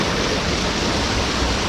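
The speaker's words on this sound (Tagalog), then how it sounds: "Oy, malakas na yung tubig ng ano, ng Arapay." Strong mountain river water of the Arapay rushes past in a dense, loud, unbroken roar, like a nearby waterfall, with no speech.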